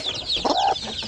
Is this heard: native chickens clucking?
yes